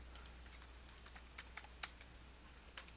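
Keystrokes on a computer keyboard while entering a business address into accounting software, a quiet irregular run of light clicks over about three seconds with no voices.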